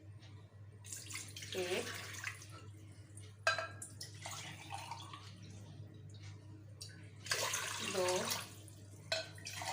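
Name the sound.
water poured into pressure cooker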